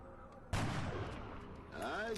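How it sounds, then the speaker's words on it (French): A sniper rifle shot in XCOM Enemy Within, a sudden loud broadband crack followed by a long rumbling tail that fades slowly, with a faint rising whine near the end. "Allez, un petit tir de sniper."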